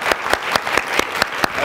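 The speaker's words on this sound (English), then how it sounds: "Please give them a round of applause." A crowd claps for Isabel and Ruben Toledo at a Parsons School of Design talk, a short burst of steady, fairly loud applause with sharp hand claps standing out in an even rhythm.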